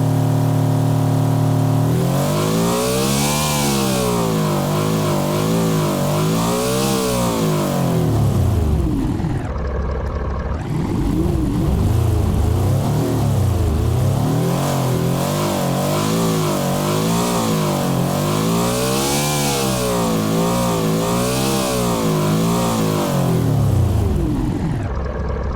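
The Bugatti Tourbillon V16 engine in the Automation video game revs loudly and continuously, its pitch climbing and falling in repeated sweeps, with a brief dip to idle in the middle and no talk.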